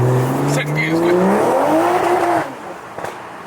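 Toyota A90 Supra accelerating hard with tyres spinning: a loud engine note rising through the revs, then dropping away into a fading rumble with a brief squeal, with people talking over it.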